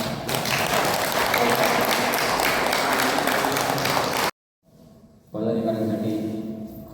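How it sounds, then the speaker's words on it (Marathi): An audience at a yoga camp in Sawantwadi bursts into loud, dense clapping that runs for several seconds, then cuts off abruptly. A quieter stretch with a voice and room sound follows. "एकदा जोरदार टाळ्या."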